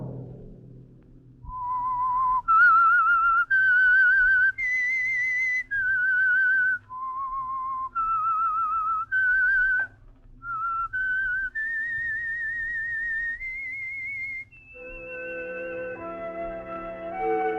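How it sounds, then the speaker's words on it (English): A whistled melody opens The Whistler, the 1946 Signal Oil radio mystery show: a lone, clear whistler holds each note in a steady phrase, then an orchestral chord swells in at the end. "Let that whistle be your signal for the Signal Oil program, The Whistler"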